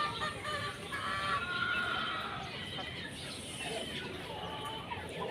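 Four-month-old Golden Boy Sweater gamefowl from the AEJ Gamefarm line cluck softly at a farm in the late afternoon, with a distant crow and a few birds calling over a steady outdoor background.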